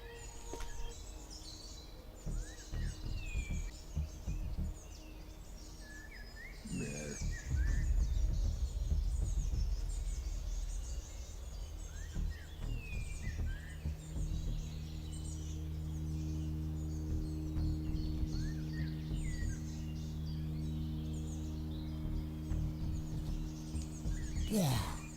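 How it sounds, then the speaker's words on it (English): Birds chirp and tweet in scattered short calls within the survival game Cataclysm: Dark Days Ahead, faint over a quiet ambient bed, with a low droning hum building in the latter half. "I can't hear you over all the fucking birds"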